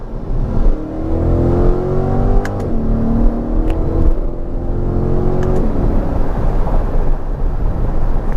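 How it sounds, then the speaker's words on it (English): Chevrolet C8 Corvette convertible V8 engine revving up and down close by, a loud, throaty rise and fall repeating across the stretch with no talk over it. "That is a good sounding V8 right there."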